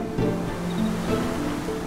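A waterfall in Final Fantasy 9, a steady rushing wash of falling water, continuous and fairly close, with faint tonal game sounds layered over it and no talk.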